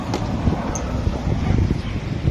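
A sudden gust of wind roars across an open outdoor spot during a road trip through Batangas toward Tagaytay, a loud, steady rushing and buffeting noise lasting a couple of seconds.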